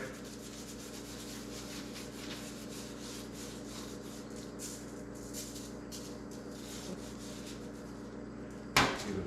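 Hands rubbing seasoning rub into a raw, untrimmed brisket, a soft continuous scuffing close by over a quiet background, ending with a short louder knock.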